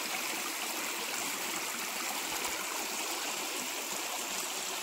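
Spring water trickling out from between rocks beneath a tree along the Narmada Parikrama route between Semlet and Bhabhri, a steady, close, unbroken rushing flow with no voices.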